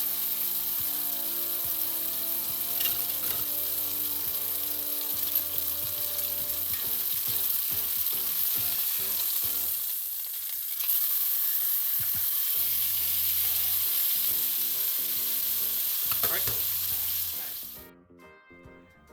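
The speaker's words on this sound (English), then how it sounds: "Oh yeah, that sizzle." Steady loud sizzling of steak frying in a hot pan, continuous with some stirring clatter, cutting off abruptly near the end.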